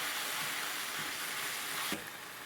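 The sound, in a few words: stir-frying noodles with black bean wok sauce, sizzling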